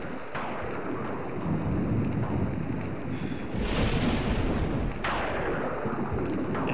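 Steady heavy rain and rumbling thunder in an RPG Maker game, a dense, loud roar throughout with brief surges where the rumble grows.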